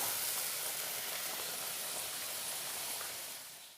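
Chopped tomatoes hit a hot pan of spice mix for a vegetarian ghugni, setting off a loud, steady close sizzle that fades slightly toward the end.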